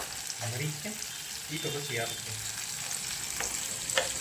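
Tomatoes with cloves and chillies fry in a home kitchen pan, a soft steady sizzle with occasional stirring scrapes, fairly quiet, with brief indistinct voice sounds mixed in.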